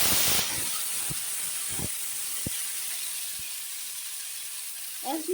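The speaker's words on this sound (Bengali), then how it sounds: "সোমবারটা ভাজা হয়ে গেলে আমি প্রথমে দিয়ে দেবো টমেটো পেস্ট" Tomato paste hitting hot oil in a kadai, an initial loud hiss that settles into a steady close sizzle with a few sharp pops, no talking heard.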